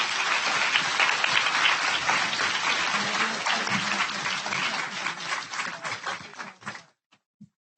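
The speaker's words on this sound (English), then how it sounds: "Would you please join me in giving our panel a big round of applause and thank you." An audience applauds a panel at a president's update event, with dense, steady clapping for about seven seconds before it thins out and stops into near silence.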